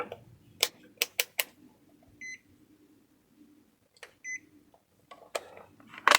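Buzzer continuity tester on an amplifier circuit during a Bluetooth module replacement: short sharp clicks and a few brief, quiet beeps, scattered irregularly over near silence.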